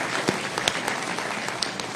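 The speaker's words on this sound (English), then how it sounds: "I'm just going to clap" Scattered clapping from an audience at an AUSA seminar for Army National Guard and Army Reserve command sergeants major, a few sharp distinct claps over a light bed of applause, moderate in level.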